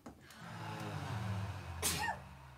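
A single close sneeze bursts out near the end after a quiet inhaled buildup, with a soft breathy tail, during a live event's guided breathing session.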